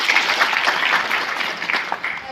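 A crowd of listeners at a tribal community gathering held at a temple applauds, a dense wash of clapping that carries on without a break and then tapers slightly toward the end.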